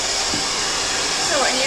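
A handheld hair dryer blows air in a steady, loud roar during hair styling at a salon academy, with a faint voice talking beneath it.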